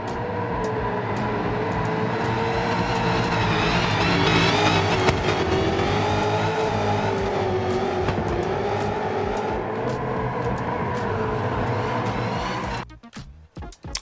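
Dodge Challenger Demon engine in Gran Turismo 7, a loud, sustained roar that holds steady and swells slightly mid-run before cutting off abruptly near the end.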